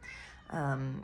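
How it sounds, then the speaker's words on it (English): A cat meows once in the background, a drawn-out, clearly pitched cry of about half a second that follows a brief stretch of a person talking. "I don't know if you can hear him meowing in the background."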